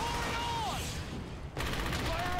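A loud fusillade of automatic weapons fire in Brothers in Arms: Hell's Highway, sustained bursts that dip briefly in the middle before resuming at full intensity, with a voice faintly mixed in.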